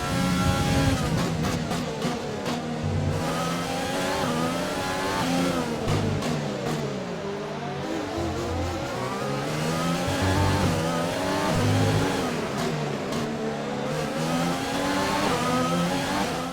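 Formula 1 car engine from the F1 2020 racing game revving hard down a straight behind a Mercedes, a loud continuous high-pitched whine rising and dropping through quick gear shifts, steady and close, no talk over it.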